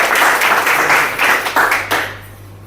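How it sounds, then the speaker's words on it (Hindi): An audience clapping in a hall at a network marketing talk, a loud burst of steady applause that fades out toward the end. "ज़ोरदार सर के लिए ताली।"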